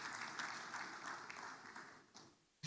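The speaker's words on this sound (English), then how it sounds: "can you please give yourselves a round of applause?" Faint applause from a forum audience at an investment event, a soft steady patter of many hands that thins out toward the end.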